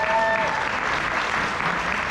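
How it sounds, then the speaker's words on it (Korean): Audience applause at a business seminar in a resort hall, a dense burst of clapping from a seated crowd, steady and fairly loud throughout, with a brief voice at the start. "박수 한번 주십시오."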